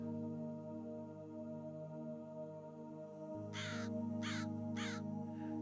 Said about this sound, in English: American crow is known to be a smart and social bird.